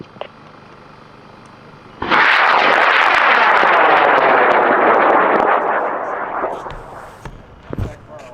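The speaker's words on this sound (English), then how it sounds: "we are launching Orange Thing in 5, 4, 3, 2" High-power model rocket launch of someone's orange rocket Orange Thing: a sudden loud roaring motor burn of about three seconds that fades as the rocket climbs away, followed by faint distant crowd voices.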